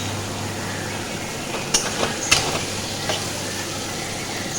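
Small chopped potato pieces go into a pan and fry with a steady, fairly loud hiss, broken by a few light clattering knocks.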